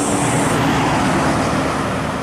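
Medan Jaya intercity bus from Medan bound for Jambi rolling past at a roadside spot, a loud steady engine and road roar filling the scene, with no talk.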